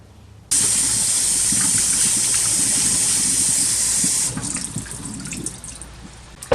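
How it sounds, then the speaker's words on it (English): Cherry tomatoes rinsed under a running kitchen tap, a steady loud hiss of water pouring for several seconds, then a lighter, uneven splashing as the flow is reduced or the tomatoes are moved. "The first thing we need to do is get these tomatoes washed."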